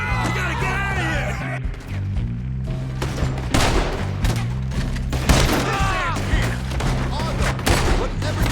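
A shootout in the video game Red Dead Redemption 2: scattered gunshots and heavy booms crack over a droning music score, with shouting voices mixed in.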